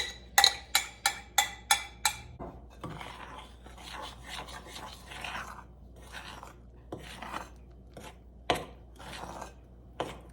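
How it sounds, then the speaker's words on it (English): Wet ingredients get stirred into dry scone ingredients with cranberry and orange, a quiet series of scraping, rasping strokes; several sharp rhythmic taps at the start, then softer uneven mixing scrapes and a few clacks. "I'm going to make a hole there in the middle of my dry ingredients, and I'm going to mix this in"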